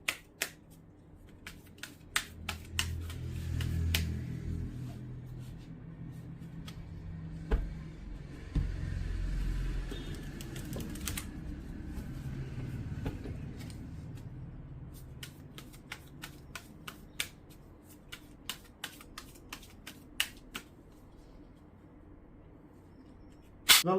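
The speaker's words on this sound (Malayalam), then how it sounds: "മാക്സിമം നന്നായിട്ട് ഷഫിൾ ചെയ്യണം കേട്ടോ" A deck of playing cards is shuffled over and over for a game of Break, with quiet riffles and sharp snapping clicks that come in bursts, close up and with no talking.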